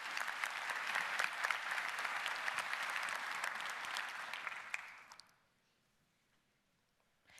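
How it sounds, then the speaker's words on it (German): A theatre audience applauds a team's pitch at a startup presentation event, dense steady clapping that fades out after about five seconds into near silence. "Bitteschön, euer Applaus."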